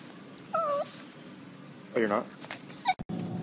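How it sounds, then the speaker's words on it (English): Small Taco Bell-style dog giving short, high whimpers and yips in a room, one brief whine early and a longer cluster later, with a voice speaking briefly near the end. "I won the Taco Bell dog in a contest, check it out."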